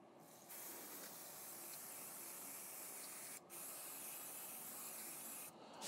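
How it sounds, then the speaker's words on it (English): Brake cleaner sprays from an aerosol can onto the rear brakes of a BMW E30 in a long, steady, close hiss, broken by two brief pauses, with no voices. "We're gonna go ahead and hit everything with a little bit of brake cleaner."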